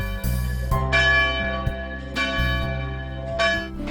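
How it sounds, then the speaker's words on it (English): Church bells peal loudly and continuously in Hampton for the World War I armistice, several bells striking in overlapping rounds with long ringing tones, no voices present. "The bells were ringing all day."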